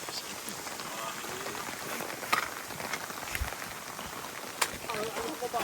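Rain falls in the Aja mountains near Hail during a hiking club trek, a steady close hiss of drops on surfaces with a few sharper taps, while people talk.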